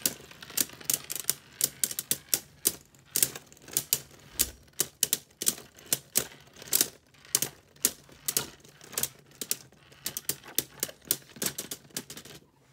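Beyblade Burst tops, Lucifer the End against Drift, spin in a plastic stadium and knock together in a fast, uneven train of sharp clicks over a faint spinning hiss throughout.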